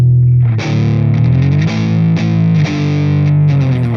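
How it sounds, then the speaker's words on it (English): A heavily distorted electric guitar note glides with a slide, swelling and shifting pitch in loud, sustained bends with several re-attacks over about four seconds. "I'm going to use the slide to play that note."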